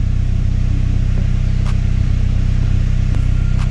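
A Honda with an aftermarket turbo idles while warming up, its engine giving off a loud, steady, close-up hum with a regular pulsing rumble and no talk over it.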